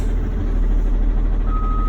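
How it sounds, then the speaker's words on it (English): A truck in reverse gear sounds its backup alarm, a single high electronic tone starting near the end over the loud, steady rumble of the idling engine. "I'm listening for that reverse signal, making sure that my alarm is sounding"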